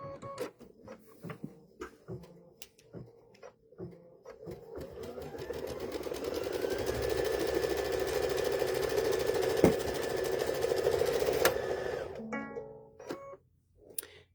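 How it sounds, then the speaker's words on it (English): A sewing machine stitches a placement line on stabilizer for a Mother's Day gift hanger, a steady mechanical whir building over several seconds with quiet ticking and clicks before and after, then stopping abruptly near the end. "directly on top of our stabilizer, we're going to stitch our placement line"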